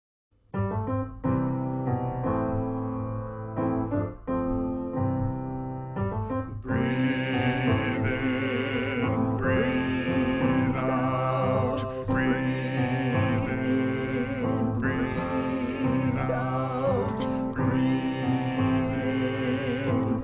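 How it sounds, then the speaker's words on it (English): Sustained sung tones of a hymn's drone part held steady beneath layered voices in a church service, starting sparse then swelling into a full, continuous choral texture with no pauses. "the easiest, most meditative part of the song that is referred to in the hymnal as a drone"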